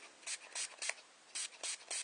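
Bursts of brush cleaner sprayed from a pump bottle onto a makeup eyeshadow brush, several short hissing sprays in two quick groups, close and fairly quiet.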